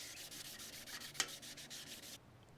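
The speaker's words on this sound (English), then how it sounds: "1000 grit wet sandpaper, and we're just gonna go at it, right?" Wet sanding with 1000 grit sandpaper on a 1967 Kawasaki W1 650 motorcycle part, a close, quiet rhythmic rubbing of quick back-and-forth strokes, with one sharp scrape midway before the strokes stop.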